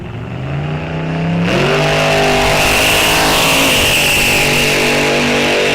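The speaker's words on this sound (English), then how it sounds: "the Dragster. Fast machine, getting ready to go." A drag-racing dragster at the start line at Rock Falls Raceway, its engine rising from a rumble into a loud, sustained roaring rev that fills the air with harsh, rich harmonics.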